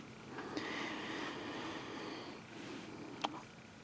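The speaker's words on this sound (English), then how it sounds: "That's my cat." A pet cat purrs close to the microphone, a soft continuous rumbling texture that persists throughout, broken by a couple of faint clicks.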